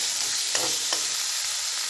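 Fried potatoes go into a sizzling spice masala in a pan for a Bengali fish, potato and tomato curry. A brief, close frying hiss sounds with a couple of soft stirring knocks and no talk.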